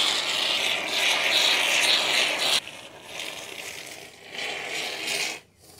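Expanding Loctite foam sprays steadily from a can onto a taped giant walking jack-o'-lantern prop, a loud continuous hiss that stops abruptly, then resumes more softly in shorter bursts before cutting off.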